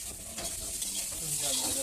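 Dal with chopped onion and green chilli sizzles steadily in a pan while a spoon stirs and scrapes, a close continuous frying hiss throughout.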